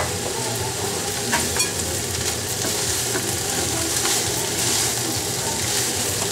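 Cucumbers sizzle and fry in a hot pan while being stirred, a steady loud crackling hiss with occasional utensil scrapes throughout, close up and without speech.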